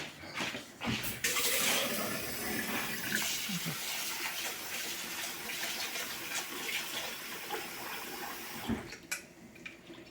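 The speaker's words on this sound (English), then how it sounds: "I'm gonna wash the rice now." Water splashes and runs continuously while rice is washed, a close, steady wash of rushing and sloshing water with a few louder bursts at the start and end.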